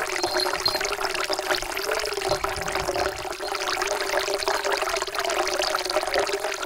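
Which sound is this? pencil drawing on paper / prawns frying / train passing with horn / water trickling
water trickling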